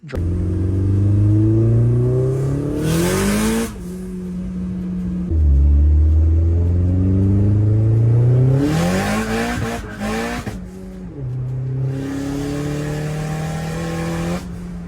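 A turbocharged Saturn Ion with a big turbo kit revs hard several times, its engine note climbing and dropping in loud, close bursts with brief pauses between pulls.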